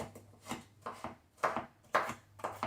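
Raw onions are chopped for a simple guacamole. Five or six close, crisp knife strikes against a board land at a steady, unhurried pace, with quiet pauses between them.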